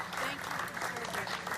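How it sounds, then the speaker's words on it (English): A crowd at the Dallas airport gives a layover of honor-flight veterans a standing ovation, dense continuous clapping that fills the space, with voices mixed in. "the group received standing ovations at every stop, including this layover in Dallas"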